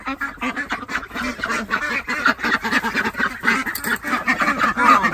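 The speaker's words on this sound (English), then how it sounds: "So we have ducks." Backyard homestead ducks quacking loudly and continuously up close, a crowded chorus of overlapping honking calls with no pauses.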